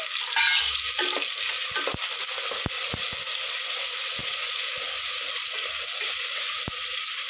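Onions and green chillies sizzle in oil in a pan for a tripe curry, a loud, constant close frying hiss punctuated by sharp clicks and scrapes of a stirring spoon, no talking.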